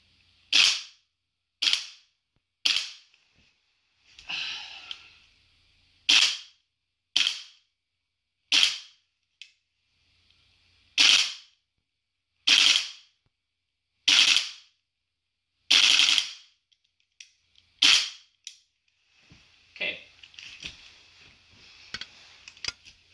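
A GBLS GDR15 DAS M4 gel blaster fires about fifteen sharp, separate shots at uneven intervals, close and loud with quiet gaps between them.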